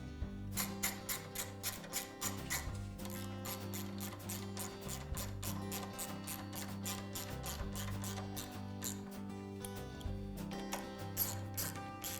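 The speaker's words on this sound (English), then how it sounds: "I'll secure this with the nuts and bolt" Nuts and a bolt are tightened with a ratchet on a Honda small engine during a gasket replacement, giving rapid, close mechanical clicking in steady bursts with brief pauses between runs.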